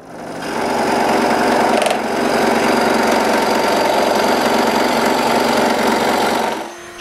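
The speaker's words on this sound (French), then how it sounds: "Je coupe entre les 2 trous avec ma scie à chantourner." A scroll saw runs steadily for several seconds, its motor buzzing and blade chattering through wood in a loud, continuous drone before stopping.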